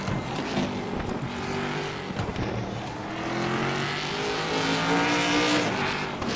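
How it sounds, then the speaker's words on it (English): Nissan GT-R race car in a racing simulator game, fitted with a non-original engine, roars loudly with rising revs and gear changes, a harsh steady drone close up without voices. "Ever heard a GTR sound like that?"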